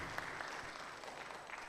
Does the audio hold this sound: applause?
yes